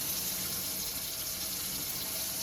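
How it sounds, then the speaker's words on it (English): Tap water runs steadily into a sink as instruments are rinsed underneath it, a constant even hiss of flowing water with no pauses. "take them over to the sink and just rinse them underneath of the water"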